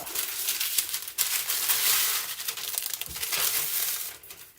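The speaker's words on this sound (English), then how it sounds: "I'm going to cut some baking paper and place them stacked on each other but layered with the baking paper so they don't stick to one another." Sheets of baking paper are handled and layered in a kitchen, making close, crisp crinkling and rustling bursts with brief pauses and no speech.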